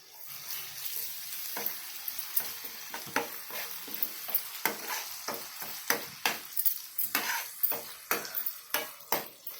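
Onions with garlic-ginger paste frying in a pan, a crackling sizzle punctuated by frequent sharp scrapes and taps of a spoon stirring against the metal.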